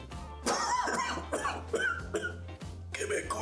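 A person coughs repeatedly in short, harsh bursts close to the microphone, with talk and a low steady hum underneath.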